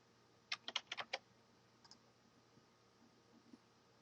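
Quick burst of five sharp mouse clicks on a computer, close and crisp, followed by a couple of fainter isolated clicks in a quiet room.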